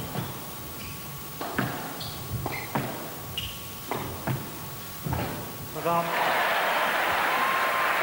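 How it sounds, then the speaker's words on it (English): A crowd at the 1989 British Open squash final featuring Jahangir Khan breaks into sustained applause after a string of sharp ball strikes, the clapping swelling loudly and filling the hall, with commentary voices alongside. "the crowd now applauding what is, for me, one of the classic finals"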